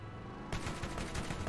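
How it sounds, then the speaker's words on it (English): Vehicle-mounted rockets firing in Borderlands: after a brief hum, a rapid volley of bursting blasts and booms rolls in, loud and continuous, building toward the end. "We'll see how the rockets perform."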